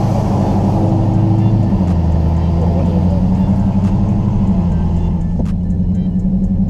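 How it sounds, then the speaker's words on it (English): A Dodge Charger SRT Hellcat runs with no mufflers, its supercharged V8 giving a loud, deep, steady rumbling drone heard from inside the car, with a person talking over it. "that's why it has such a huge exhaust note"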